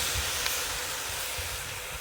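Tomatoes and onions sautéing in a pan for biryani, giving a dense, continuous hiss and sizzle that stays close and even for the whole moment, with no talking.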